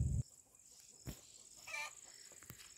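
Domestic chickens clucking at a rural home, faint and somewhat distant, a few short calls scattered through a quiet yard with a steady high insect-like hiss behind them.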